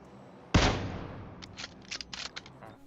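Single loud gunshot from a headshot in the PUBG Mobile video game, a sharp blast with a decaying tail, followed by a few fainter scattered pops.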